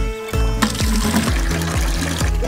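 Water pours and trickles into a container for farm animals on a farm, a close, continuous splashing stream with bubbling, gurgling surges.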